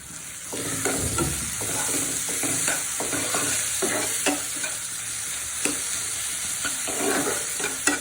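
Crushed garlic and tomatoes sizzle in a pan while being stirred, a constant frying hiss broken by repeated spoon scrapes and soft clinks at an uneven rhythm, close and alone.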